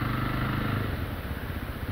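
A Jawa Classic 350 motorcycle engine pulls steadily in third gear while riding, a close, continuous low thrumming exhaust note with a rough, even pulse and no talk.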